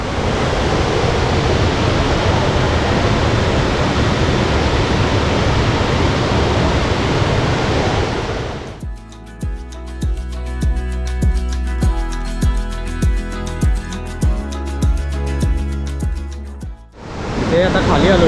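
Water pours steadily at the waterfall by Dhootpapeshwar Temple near Rajapur, a loud, close, continuous roar that drops out for several seconds, during which faint music plays, before the rushing returns.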